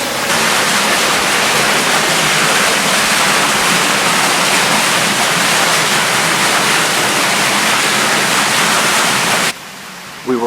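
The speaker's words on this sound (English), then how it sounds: "There's waterfall here" A waterfall roars inside an underground tunnel chamber beneath a Chicago suburb, a loud, steady rush of water that fills the space and cuts off abruptly near the end, with no voices.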